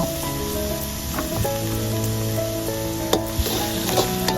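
Water spinach stir-frying with soy sauce over medium heat, a steady close sizzle with occasional scrapes and clacks of a utensil against the pan, and no voices.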